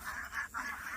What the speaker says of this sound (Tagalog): Dagan na mga duck yan.